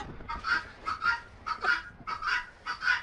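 Chickens, guinea fowl and turkeys on a snowy winter farmyard, giving repeated nasal honking calls in a steady run of about six bursts, fairly close and with no talk over them.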